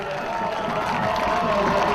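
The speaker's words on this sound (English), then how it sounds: "this crowd is all up on its feet excited" A high school football crowd at a Riverview Rams versus Palmetto Tigers game, on its feet and cheering, makes a steady, broad roar of many voices that holds level and swells slightly toward the end.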